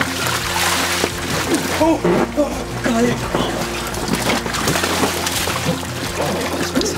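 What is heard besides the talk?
splash into water from slide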